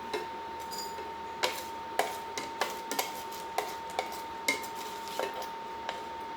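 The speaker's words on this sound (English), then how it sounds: "So I'm going to take a bowl and move the bacon into a bowl, leaving the bacon fat." Bacon is moved from a pan into a bowl with utensils while making beef burgundy. It produces a string of light, sharp clinks and taps of metal on dishware, fairly close and spaced irregularly, over a steady faint hum.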